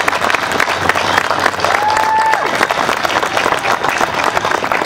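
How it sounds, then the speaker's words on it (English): A large crowd at an outdoor opening ceremony for the Moving Wall veterans memorial in Aurora, Illinois claps loudly and steadily, dense applause sustained throughout with a brief whistle-like tone midway. "Let's give Herschel another round of applause, if we could, for his vision."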